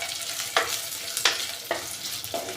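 Onions sautéing in a pan for fish curry, a constant close sizzle broken by four evenly spaced scraping stirs, no voices.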